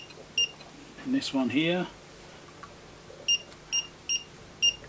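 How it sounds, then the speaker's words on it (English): A continuity tester used on diodes inside a Datron 4700 calibrator gives short, sharp electronic beeps, one early and then four evenly spaced near the end, with someone speaking briefly between them. "See how much faster this is by having it beeping?"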